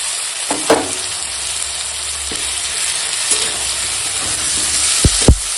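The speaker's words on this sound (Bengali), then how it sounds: "আর এখন দিয়ে দেবো আদা বাটা।" Potato, tomato and green chilli fry in a pan as ginger paste is added and stirred, a loud close sizzle broken by several sharp scraping clatters of the spatula.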